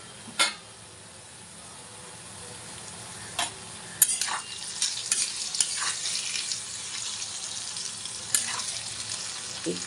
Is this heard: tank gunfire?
no